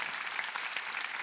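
A large congregation at a Korean church revival meeting in an arena hall breaks into dense, continuous applause that fills the space evenly for the whole moment.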